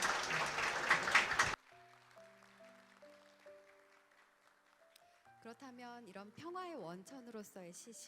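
Audience applause at a plenary session of a peace-building forum comes as a loud burst of clapping that cuts off abruptly after about a second and a half. Soft sustained musical tones follow, then voices.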